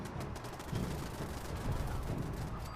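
Automated turrets in Fallout 76 fire in rapid, continuous bursts of gunfire, a dense rattling barrage over a few seconds with no voices.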